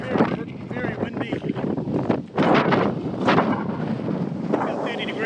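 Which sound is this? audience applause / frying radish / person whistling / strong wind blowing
strong wind blowing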